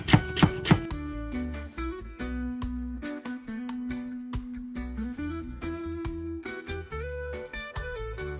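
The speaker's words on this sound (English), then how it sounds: "I'm going to cut my celery" Knife chopping celery on a board for Jamaican cowfoot soup, a run of close, rapid cuts at a steady rhythm, partly masked by steady background music.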